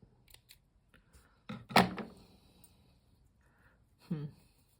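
Scissors snip wire during a wire drawing craft, close and quiet. Faint soft handling noises come before two brief distinct cuts, spaced a couple of seconds apart.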